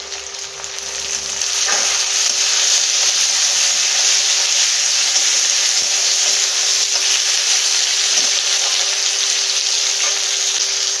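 Chopped tomato hits hot oil with tempered spices, and a loud hissing sizzle swells after a quieter moment and then holds steady and close for the rest of the clip, with no talk.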